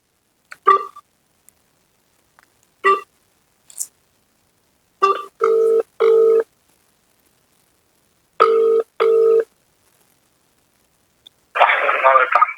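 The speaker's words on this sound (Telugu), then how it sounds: "మనం సిఐ గారికి అయితే ఫోన్ చేస్తున్నాము" A mobile phone call placed to a police inspector, heard as a repeated electronic ringback tone in short evenly spaced bursts over near silence, followed by a burst of noisy audio at the end.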